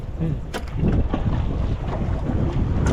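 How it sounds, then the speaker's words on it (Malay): Strong wind buffets a small fishing boat out at sea while micro jigging off Batu Puteh, a steady loud roar of gusts and water slap filling the whole stretch. "Laju angin."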